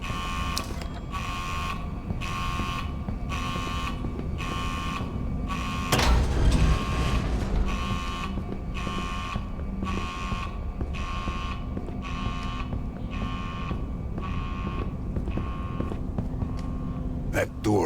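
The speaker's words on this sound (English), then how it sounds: "That's some kind of alarm." Alarm inside an underground bomb shelter in the horror game Edge of Sanity, a loud repeating electronic tone pulsing steadily in a regular on-off rhythm throughout, with a brief low thud partway through.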